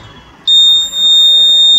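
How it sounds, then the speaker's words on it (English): A fingerprint-based ATM security system's alarm buzzer sounds with no finger on the scanner, a loud steady high-pitched electronic tone that starts abruptly and holds continuously, dipping briefly once. "if you don't place finger then alarm will buzz"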